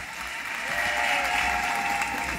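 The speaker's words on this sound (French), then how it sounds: "Applaudissez pour lui." A church congregation at a chapel blessing applauds briefly, a soft rising wash of clapping that swells and holds, heard from some distance in a reverberant room.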